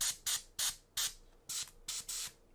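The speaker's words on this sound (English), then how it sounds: "And I have to really control my spray." Short bursts of an airbrush spraying paint on a miniature from close range, six or seven sharp hissing puffs in an uneven rhythm, with faint quiet between them.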